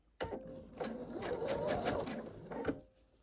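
A sewing machine chain-pieces batik quilt pieces without breaking the thread, running in short close bursts with brief pauses between them.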